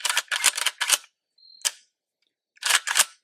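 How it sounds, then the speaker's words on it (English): Dry trigger pull on an M+M Industries M10X-P PRO 12.5-inch pistol: several sharp mechanical clicks and snaps in quick bursts, close and crisp against silence. "I mean, nothing to write home about, but it is very decent break and everything"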